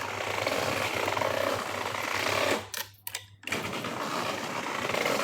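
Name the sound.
curtain being closed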